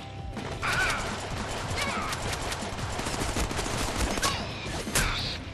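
Gunfire crackles in the Deadpool video game on Xbox One, with rapid bursts of shots and impacts over a busy game soundscape, loud and up close.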